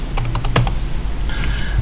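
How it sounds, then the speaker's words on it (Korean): Typing on a computer keyboard, a quick run of close, crisp key clicks with a short burst and a pause before a few more taps, no voices. "클릭해서 타이핑을 하셔도 되고요"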